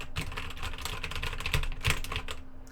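Fingers tap out a shortcut on a computer keyboard for the Emacs editor: a quick, uneven run of close, clicky keystrokes with a few firmer presses, and no talking.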